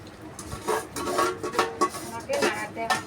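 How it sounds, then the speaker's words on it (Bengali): Meat being stirred in a cooking pot, a continuous scraping, rubbing rasp with irregular louder strokes, close and fairly steady, no voices. "10 মিনিট আমি এরকম নাড়াচাড়া করে নিলাম"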